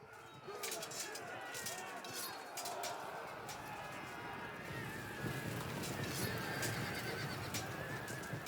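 Cavalry horses neigh and whinny repeatedly amid clattering hooves in a medieval battle in Fields of Glory 2, loud and busy over a dense crowd-like din.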